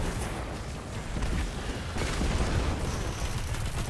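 Gunfire in the Destiny 2 video game, a dense, rumbling barrage of shots and blasts that roars continuously for several seconds with no talk over it.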